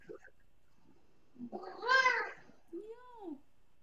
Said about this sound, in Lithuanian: Katina balsas tai kaip vaiko